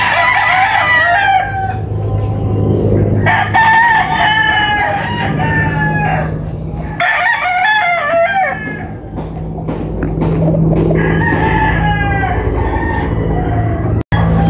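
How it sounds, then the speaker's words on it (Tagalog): Roosters at a gamefowl farm crow repeatedly and loudly, several overlapping cock-a-doodle-doo calls close by, with clucking between crows and a steady low background hum. "Mukhang ayan mga manok nila."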